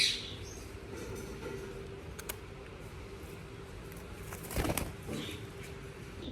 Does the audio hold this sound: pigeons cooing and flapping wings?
yes